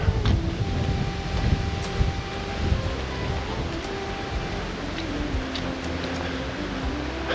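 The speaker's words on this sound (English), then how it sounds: "I guess this is what fall will be, is windy again." Gusty autumn wind buffeting the microphone on a lakeside trail with low rumbling bursts, steady and fairly loud, with faint light ticking in the background.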